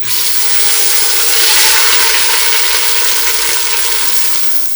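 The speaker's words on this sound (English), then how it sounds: "Add the meat to the pot, and we want to brown it well on all sides" Meat browning in a Magefesa stovetop pressure cooker pot, a loud, steady hiss of sizzling fat that swells slightly and then eases off, close and continuous with no talking.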